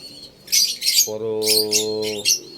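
Pet birds squawk and chirp in bursts, close by, with a sustained harsh call in the middle; no talking.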